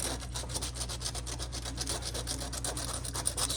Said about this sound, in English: This is probably the wrong grit sandpaper, so I'm just not gonna do too much.